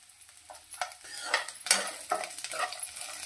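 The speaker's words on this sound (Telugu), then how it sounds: "ఉల్లిపాయ ముక్కలు, పప్పులు ఇవన్నీ దోరగా వేగిపోయినాయి" Onion pieces and lentils fry in a pan, with soft sizzling broken by scraping clinks of a spoon against metal, close and moderately quiet.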